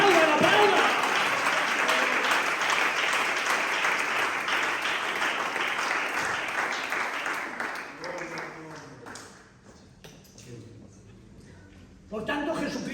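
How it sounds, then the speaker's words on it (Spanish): A congregation at a Christian church teaching session bursts into loud, sustained applause that gradually thins out, with voices and talk emerging as the clapping fades and a brief burst returning at the end. "¡Aplaudan, aplaudan, aplaudan, aplaudan!"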